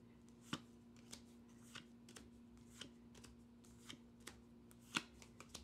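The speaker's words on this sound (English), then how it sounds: "I'm going to just flip through quickly because the idea is to get to the death card" Tarot cards from the Everyday Witch deck being flipped quickly through by hand, a quiet series of soft irregular flicks and slaps with a steady low hum behind.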